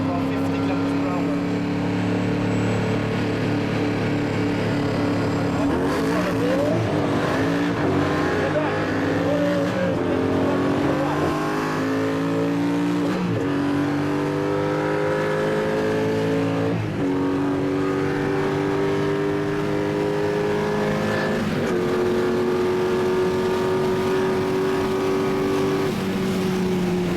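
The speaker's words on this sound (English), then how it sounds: "Koenigsegg CCR Evolution versus Carrera GT." A Koenigsegg CCR Evolution and a Porsche Carrera GT race from 50 km/h, their engines loud and close with rising revs and repeated gear-change dips while a voice talks over them.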